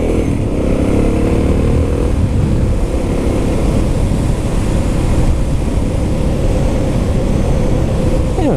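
A Suzuki DR650 motorcycle is ridden on the road, its steady engine drone blended with heavy, constant wind buffeting that stays loud and unbroken throughout, with no talking.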